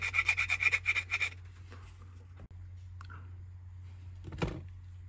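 Wet-and-dry abrasive paper rubbing down a part of a Graham Farish N gauge GWR Class 81xx Prairie 2-6-2 tank locomotive, heard as a quick run of short rhythmic scrubbing strokes at the start, then quieter scattered handling noises over a steady hum.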